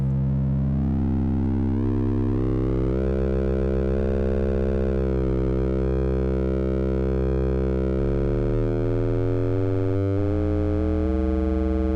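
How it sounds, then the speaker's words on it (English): Fat, buzzy FM bass tone from a Yamaha TX81Z synthesizer, a sustained low note shifting in pitch and timbre over about twelve seconds, loud and alone with no talking. "when we hit the right balance between the frequency and the level and the oscillator over here, we get some really fat bassy sounds."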